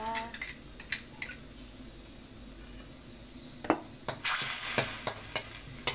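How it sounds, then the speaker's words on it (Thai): Curry paste stir-fried in coconut cream for a Thai pineapple and shellfish curry: scattered spoon scrapes and clinks against the pan, then a louder, steady sizzle in the second half, with no talking. "เริ่มจากใส่หัวกะทิก่อนนะคะ แกงลงไปผัดก่อนนะคะ"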